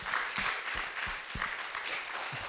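A church congregation applauds, a faint, distant wash of many hands clapping at once that continues steadily.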